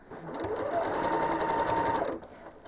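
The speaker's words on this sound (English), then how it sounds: "I'm simply going to stitch a straight line across like a cheater stitch in the ditch, just to move my needle where I need it to go" A home sewing machine stitches a straight line across a quilt, a steady fast mechanical whir that ramps up, runs evenly for about a second and a half, then stops, close and clear with no talk.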